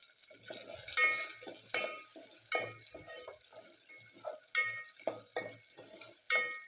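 Green masala and bay leaf frying in hot oil, heard as a faint sizzle under repeated metallic scrapes and clinks of a spoon stirring against the pan, close and rhythmic.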